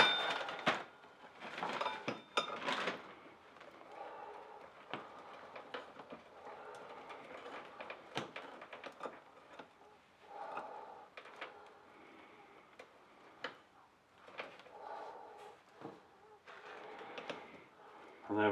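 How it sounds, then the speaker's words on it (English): A motorcycle drive chain on a Suzuki Bandit being fed and pulled through onto the sprocket, giving scattered metallic clicks, rattles and clinks close by, irregular and fairly quiet throughout. "now I can pull the chain all the way through"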